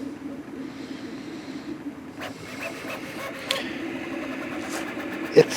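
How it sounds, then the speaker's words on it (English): A Prusa MK4S 3D printer running a test print gives a steady mechanical hum with a faint whine, soft clicks and occasional sharper ticks throughout. "Alright, cool, it's printing."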